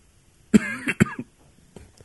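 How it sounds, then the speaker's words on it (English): A single close COVID cough with a short follow-up hack, loud and abrupt, then quiet breathing. "I had the corona cough there"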